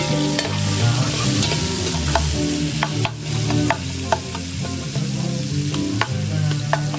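Onions and needlefish fry in a pan over a wood fire, a steady close sizzle running throughout with scattered crackles and stirring scrapes.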